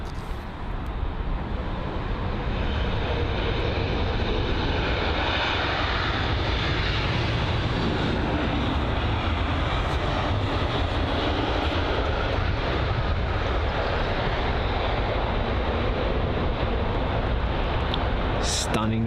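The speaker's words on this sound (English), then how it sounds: "what's this? The Lufthansa A320neo." A Lufthansa Airbus A320neo airliner at London Heathrow produces a continuous, loud jet-engine roar that holds steady for around twenty seconds. Someone talks over the engine noise.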